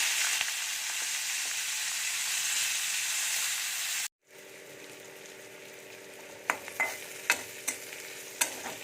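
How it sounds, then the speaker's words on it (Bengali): Chopped onions frying in a pan while cooking Bengali pointed gourd with prawns: a steady loud sizzle, then after a brief cut a quieter fry with several sharp stirring clacks of a spatula. "কুচিয়ে রাখা পেঁয়াজ দেবো"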